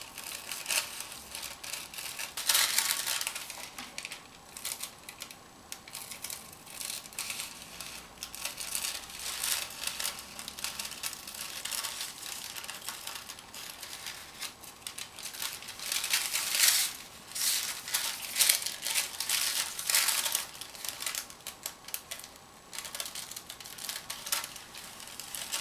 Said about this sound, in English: So now we'll cut out the tissue for the wings and tail.